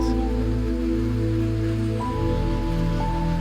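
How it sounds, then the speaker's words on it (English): Steady rain falls, making an even hiss under a low sustained tone that shifts partway through, with no voices. "the rain continues, patient and indifferent, as it always has"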